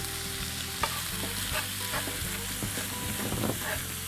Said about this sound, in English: Now I'm sauteing this just for a minute.